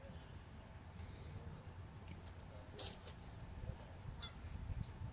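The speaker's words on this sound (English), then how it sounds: "Wow, look at all those geese." Geese honking near water during a disc golf tournament, with several sharp honks standing out at intervals over a steady outdoor background.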